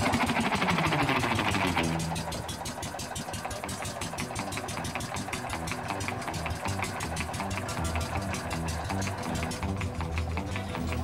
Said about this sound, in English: A small four-cycle engine is the power for our ride there.